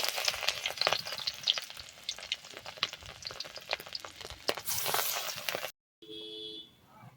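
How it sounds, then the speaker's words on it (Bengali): Small lentil fritters fry in hot oil with a bright, crackling sizzle that surges as each piece goes in. The sizzle cuts off abruptly, then a quieter stretch of kitchen noise follows. "তেলটা খুব সুন্দরভাবে গরম হয়ে গেলে আমরা একটা একটা করে বড়া দিয়ে দেব"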